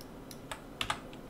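A few computer keyboard keys are pressed in quick succession for a shortcut while working in 3D modelling software, making soft, sharp clicks. The clicks are close, fairly quiet, and irregularly spaced, with a faint hum behind them.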